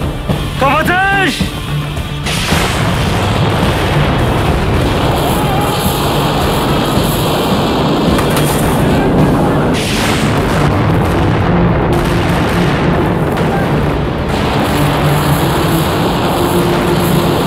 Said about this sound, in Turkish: Top doldur! Nişanım! Top atış!